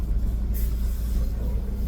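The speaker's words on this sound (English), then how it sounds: "There's a car." Car passing nearby, a low continuous rumble with a brief whoosh, moderately loud and steady, with no talking.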